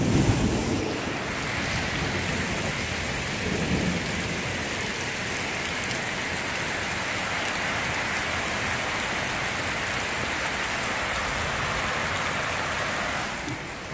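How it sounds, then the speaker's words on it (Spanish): Heavy rain pours down steadily in Yucatán, Mexico, a dense, continuous hiss of drops hitting surfaces with no speech, holding at an even loudness throughout and easing slightly at the very end. "No, está lloviendo muy duro."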